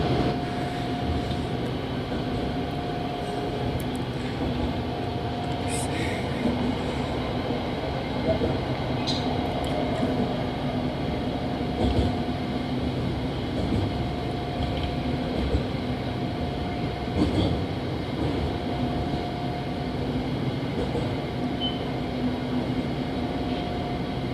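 Steady hum and rumble of a long-distance train standing at Bang Son station in Thailand, with a faint tonal whine, scattered clanks and distant voices in the background.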